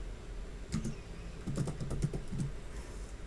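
Light clicking on a computer keyboard while entering C++ code, a few soft keystrokes in a short cluster under faint room hiss, close but quiet.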